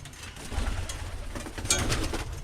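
Birmingham Roller pigeons coo softly in a nest box inside a loft, low throaty murmurs repeating close by over faint rustling.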